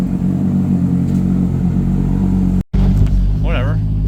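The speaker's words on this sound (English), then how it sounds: "go for a drive on the new brakes" A Toyota MR2 sports car drives on newly fitted brakes, its engine giving a loud steady rumble that cuts out briefly and then returns with a rising rev, while a person talks over it.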